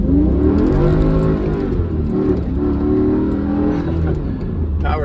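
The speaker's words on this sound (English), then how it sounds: "See if we can rev it up a little bit and get the RPMs to." A Mercedes C55 AMG engine revs hard during a pull, loud and close, its deep growling tone rising and falling in pitch as it builds, with no talking over it.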